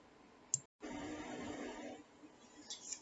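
Soft, steady rustling and papery shuffling of tarot cards close by, with a brief click near the start and a short silent gap.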